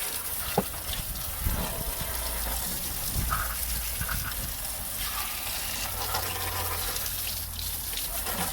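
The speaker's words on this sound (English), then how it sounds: "I'm just going to rinse it with a steady stream of water." A steady stream of water rinses the wheel arch of a BMW 320d E90, a continuous gushing splash with a few irregular spatters and drips, close and fairly quiet.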